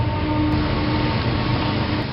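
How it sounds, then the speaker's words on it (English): A train rumbles past at a steady distance, a continuous low roar without breaks, heard on its own with no talk. "We'll let that train leave town."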